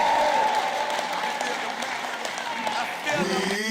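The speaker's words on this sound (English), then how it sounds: "Give a huge super duper whooper round of applause for Darrell as he comes to embrace the Shapi" Crowd applause and cheering at a political campaign rally in Philadelphia, a loud, dense wash of clapping that stays steady throughout, with a voice rising in tone over it near the end.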